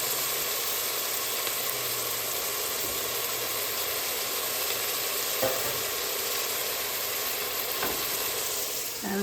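Onions sautéing in a pan for Indian tomato rice, a steady continuous sizzle and hiss at moderate level with a couple of brief clinks of stirring.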